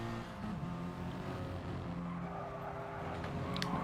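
Racing cars in a BTCC touring car video game race on Blue Moon Bay's infield circuit, engines droning steadily down the start-finish straight with a continuous loud roar and faint tyre squeal, no talk.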